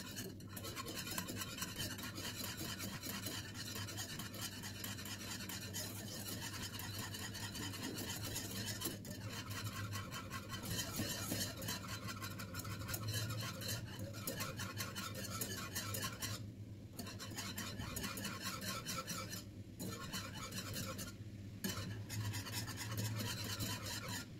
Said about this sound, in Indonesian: ini wajib kita aduk ya, supaya nanti nggak terlalu banyak berbuih